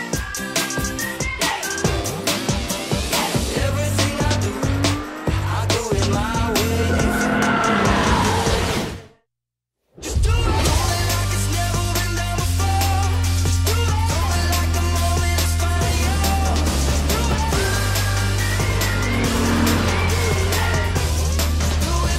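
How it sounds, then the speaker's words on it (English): A Lexus IS F Sport sedan runs a timed lap on a race track, its engine roaring loudly and continuously alongside tire squeal, with a brief dropout partway before the engine sound resumes at full intensity. "We're gonna do one lap around the track, time attack style, one car at a time."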